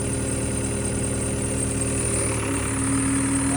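Cold earthwork machine diesel engine held at full throttle in first gear, with low transmission oil, giving a loud steady rough drone with knocking vibration and a slight pitch shift near the end, no talk.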